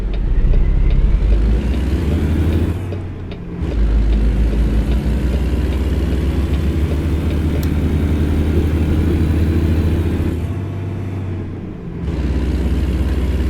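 Kenworth W900 truck engine in American Truck Simulator, a loud, steady low rumble that runs almost the whole time, dipping briefly twice as if between gears before settling back into its deep drone.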